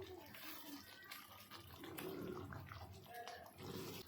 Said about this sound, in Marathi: हे पाणी हे पण टाकून घेते मी